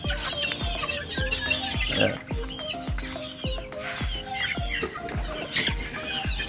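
Young gamecock stags and hens cluck and chirp close by at a farm, sharp repeated clucks coming roughly every half second over a busy outdoor background.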